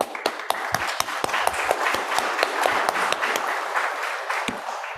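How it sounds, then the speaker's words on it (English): Audience applause at a climate justice summer school workshop in Nairobi, steady dense clapping from a room of people lasting several seconds, with sharp individual claps standing out near the microphone. "Let's do an applause to close it before we move to the next session."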